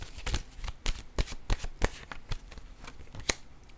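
Oracle cards shuffled and drawn at close range, a quick run of crisp riffling snaps and soft slaps in an uneven rhythm, with no voice over them.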